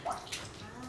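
Water sloshes and splashes gently in a large hotel bathtub as a small child bathes, quiet and close, with a faint voice in the background.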